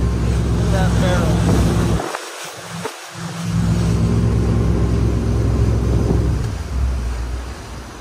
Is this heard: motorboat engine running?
yes